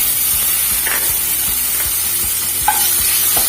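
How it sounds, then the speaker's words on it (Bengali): Chopped onions with bay leaf and cumin sizzle steadily in hot oil left from frying potatoes, with a spoon stirring and scraping the pan in a loose, regular rhythm. "পেঁয়াজটা একটু ভেজে নেবো"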